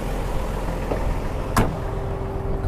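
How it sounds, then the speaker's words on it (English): A PTO-driven hydraulic pump runs on a Mercedes Unimog FLU419 SEE tractor with a backhoe, giving a steady, close mechanical drone with a faint whine and one short knock partway through. "You can kind of hear the pump on."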